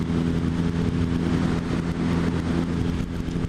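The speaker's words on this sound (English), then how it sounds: "it's got the Yoshimura slip-ons, and they sound wonderful" Suzuki B-King motorcycle fitted with Yoshimura slip-on exhausts, running steadily with a deep, continuous engine note that stays loud and close throughout, with no talking.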